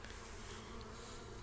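Honeybees buzz steadily around a honey beehive, a faint, continuous drone with no voices over it.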